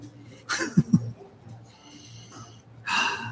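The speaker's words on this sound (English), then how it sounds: "Actually, let me sniff it." Someone sniffing a Dunkin' donut up close, a few quick breathy inhalations and snorts with two sharp bursts, then a longer breath at the end, quiet overall.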